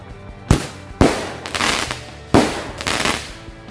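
Firecrackers set off for ngabuburit, a string of loud sharp bangs at irregular intervals, each followed by crackling bursts, with no talk.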